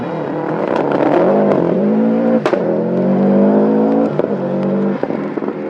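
Carlos Sainz's rally car, with a misted-up windscreen, charges at speed on the 1995 WRC Wales GB stage, its engine roaring loud and close with rising revs, sharp gear-change breaks and bursts of acceleration.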